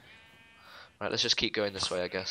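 Sheep in a video game give a bleat, a wavering tone heard briefly and faintly before a voice speaks over the rest.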